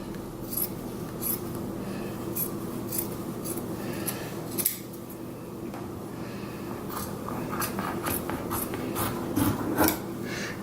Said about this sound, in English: we're going to cut the shoulder seams and then along the sides